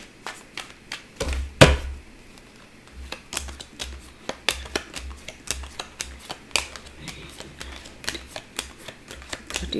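Tarot cards are shuffled during a live reading, giving a series of sharp papery taps and riffles in an irregular rhythm over ten seconds, close and moderately loud with no talking.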